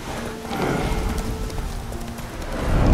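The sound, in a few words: horse galloping hooves in video game The Witcher 3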